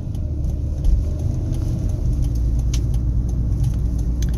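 A car engine hums steadily while driving at about 60 km/h, a low continuous rumble of road and motor noise heard from inside the cabin.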